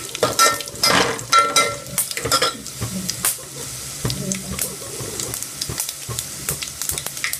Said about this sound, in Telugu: ఎండుమిర్చి, కొన్ని ధనియాలు, కొంచెం జీలకర్ర, ఆవాలు వేసుకున్నాం కదా, మనం వాటిని ఫ్రై చేసుకుంటూ ఉండాలి